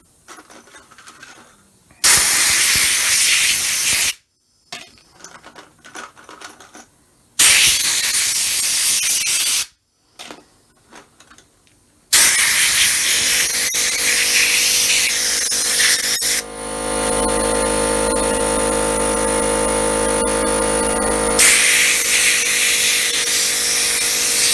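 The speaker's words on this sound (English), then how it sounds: "I'm just going to blow them off and dry them real quick." Compressed air blasts at cleaned Gottlieb Rat Trap pinball parts from an ultrasonic cleaner, coming in loud repeated hissing bursts with short gaps, then a longer steady blowing stretch with a whining tone.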